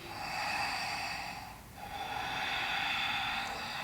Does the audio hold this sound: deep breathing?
yes